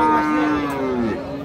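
Cows and a Friesian cow with calf lowing at a busy livestock haat in Raniganj, Dinajpur: one long, loud, close moo with a drawn-out, wavering tone fills the moment, with crowd murmur behind it.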